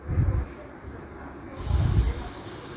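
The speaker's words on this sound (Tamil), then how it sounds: "ஒரு பீஸாக எடுத்து போடலாம் எண்ணெயில்." Marinated chicken pieces for a chicken roast sizzle in hot oil, a steady broadband hiss that swells as more pieces go in, with low bubbling underneath.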